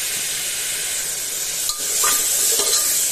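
Onions browning in hot oil for a rajma curry give a steady, loud hiss and sizzle, with a couple of brief scraping stirs near the end; no one speaks.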